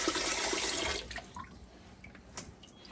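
Raw ribs being rinsed under running water in a kitchen sink after the membrane is peeled off, a steady close splashing stream that cuts back after a second to lighter trickles and drips.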